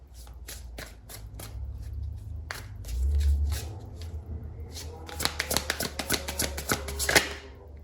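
A deck of tarot cards is handled and shuffled close up, with repeated crisp riffles and flicks that speed into a dense run of sharp card snaps near the end.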